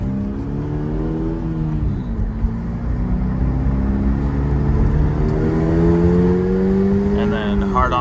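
A Toyota GR86 with upgraded brake pads and lines accelerating hard to about 50 mph, its engine note rising and falling through gear changes with a steady droning cabin roar, heard from inside the car.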